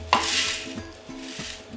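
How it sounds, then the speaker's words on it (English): Dry oats poured into a blender jar make a soft, sustained hissing patter that swells and fades, with a faint knock at the start and a lighter trickle near the end. "I add the same amount of oats as walnuts"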